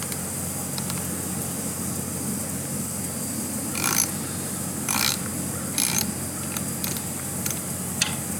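Loosening sprocket bolts on a DR650 motorcycle with a hand tool: a few short bursts of clicking and ratcheting, faint and close, over a steady background hiss.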